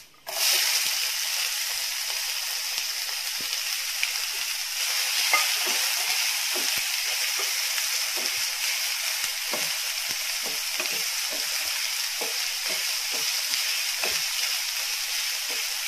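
Sliced onion sizzling steadily in hot oil in a pan with lightly browned urad dal, prepared for paniyaram, a continuous close fry hiss with occasional stirring scrapes and no talking.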